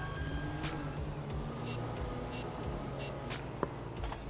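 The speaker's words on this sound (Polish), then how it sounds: "Jakiś telefon dzwoni." A phone rings in the Grand Theft Auto V video game, a steady electronic trill repeating in short bursts over a constant bed of game ambience, with no talking.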